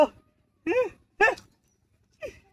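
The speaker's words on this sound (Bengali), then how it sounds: "এটা কুত্তা" A dog gives four short, separate whimpering barks with pauses between them; no other sound.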